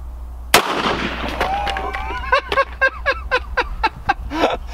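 A single gunshot fired at a stack of hard hats rings out as one sharp, loud crack, followed by a string of rapid clicks or metallic rattles that die away.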